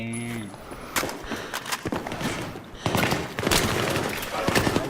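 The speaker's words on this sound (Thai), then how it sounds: "หยิบปืนเลยขึ้นมากราด" Machine gun fire sprays in the Battlefield 3 campaign, with dense bursts and scattered shots against battle noise. Commentary continues over it and the firing grows heavier toward the end.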